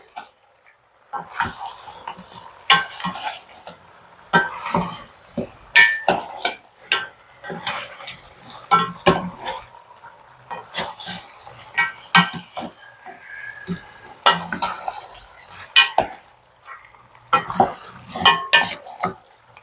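Pork trotter humba is stirred in a pot with a utensil, producing sparse, intermittent clinks and scrapes against the metal, close and fairly crisp over an otherwise quiet background.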